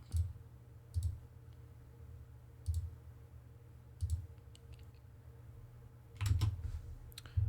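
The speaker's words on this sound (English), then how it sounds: "bad clicking on my part" A computer mouse clicking while modeling in SolidWorks, heard as separate, sharp, close clicks spaced a second or more apart, with a quick double click near the end over a faint steady hum.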